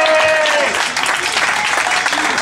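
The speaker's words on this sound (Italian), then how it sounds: "E qua può partire l'applauso" Audience at a live comedy-music show in Argelato bursts into applause, loud continuous clapping that starts as a sung note fades and carries on steadily, with a voice briefly audible at the start.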